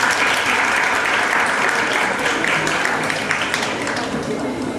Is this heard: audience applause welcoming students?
yes